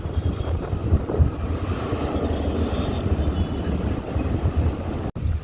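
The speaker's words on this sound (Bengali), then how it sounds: "সেই বিমানটি উড়ার জন্য টান দিয়েছে টেক অফ করবে এখন" An Emirates airliner taking off, heard as a steady, loud, broadband engine roar and rumble that holds for the whole stretch with no pause.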